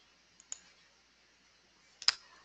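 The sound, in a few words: mouse click on a computer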